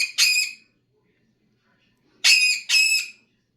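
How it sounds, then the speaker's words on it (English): A female parrot screams in three loud, harsh, piercing bursts, one short call followed by a gap and then two close together, with silence between and no talking. "She only screams for a couple of reasons. Especially like this, where she goes on and on for several minutes."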